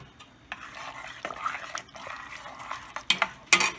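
Pasta being stirred together with chicken cacciatore sauce and grated parmesan gives soft wet squelching and scraping, with a few sharper utensil clacks against the pan near the end.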